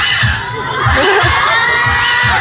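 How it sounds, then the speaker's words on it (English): An audience at a sea lion show in an ocean park roars with cheers and children's shouts, a loud sustained crowd noise with rhythmic low thumps running under it for the whole stretch. "How about another round of applause for sea lion friends?"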